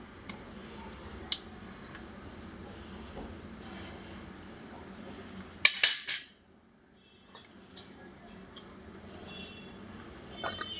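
Mustard seeds splutter in hot oil with sparse, sharp little pops over a faint hiss. A brief burst of crackling flares up midway and then dies down to near silence before scattered pops return.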